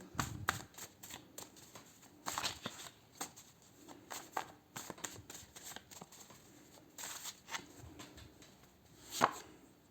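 Tarot cards are shuffled and pulled during a health and lifestyle reading, giving close, crisp riffling and slapping bursts at irregular intervals with no talking.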